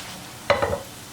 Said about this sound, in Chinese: 再把饼给它放进去，煎另一面。